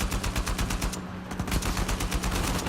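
Rapid, loud bursts of automatic gunfire from the video game Uncharted 4 rattle in close succession, with a brief lull midway before the firing resumes.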